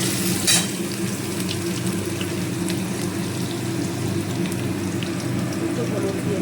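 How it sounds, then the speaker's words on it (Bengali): Potatoes frying in oil with whole cumin seeds, a loud continuous sizzle heard close up, with a brief clatter near the start and no talk. "তো আলুগুলো একটু ভেজে নেব।"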